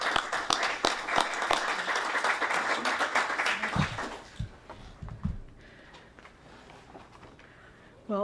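Audience applause welcoming a lecturer at an academic talk: a room of steady clapping for about four seconds, then fading to scattered claps and quiet before a voice begins.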